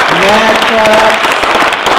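Conference audience applauding the technical crew: dense clapping fills the whole stretch, with a speaker's voice carrying over it.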